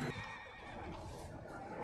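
A horse in the Red Dead video game lets out a loud, close neigh, a rising and falling whinny lasting under two seconds, with faint hoof clip-clop beneath.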